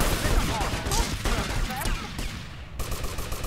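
Rapid gunfire bursts crackle from a GTA Vice City Stories gameplay session, loud and dense with sharp repeated shots layered over game noise throughout.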